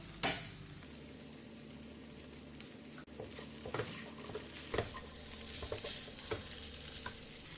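Sweet corn kachori filling is stirred in a pan over gentle heat, with soft continuous sizzling under scattered scraping clicks from a spoon, fairly quiet and close.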